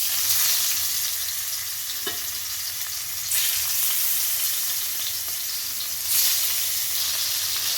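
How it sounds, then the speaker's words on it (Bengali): Small pieces of katla fish frying in hot oil give a steady, dense sizzle throughout, with brief louder bursts of crackle as pieces are stirred or turned. No voices are heard. "ছোট ছোট মাছের টুকরোগুলোকে আমি ভেজে নিচ্ছি"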